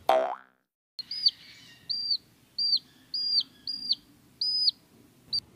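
Cartoon chicks chirp in a rapid series of bright, bouncy high-pitched calls, about eight repeated evenly, following a short voiced exclamation at the start.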